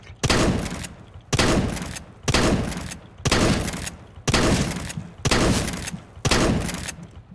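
Nova shotgun fire in Counter-Strike: Global Offensive, seven loud, booming blasts spaced roughly a second apart, each with a short decaying tail, close and without voices.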